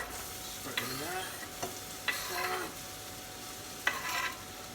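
Onions and other chopped vegetables drop into a hot frying pan for leek and potato soup, giving a steady close sizzle with a few short bursts of stirring and scraping.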